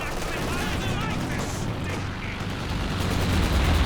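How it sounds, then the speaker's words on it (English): Artillery in the real-time strategy game Company of Heroes 2 rumbles as a dense, continuous barrage of booms and gunfire, loud and steady, growing heavier toward the end, with no talking over it. "Major artillery also dropping down here."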